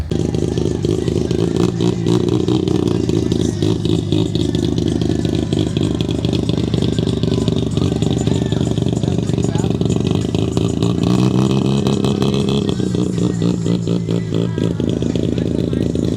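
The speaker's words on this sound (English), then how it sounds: "A rotary engine? No way. What did he do? Put a Mazda engine in a Suzuki?" Engine noise from a Suzuki fitted with a Mazda rotary engine at a cars and coffee meet, a loud steady running drone that rises in revs around the middle, with people talking nearby throughout.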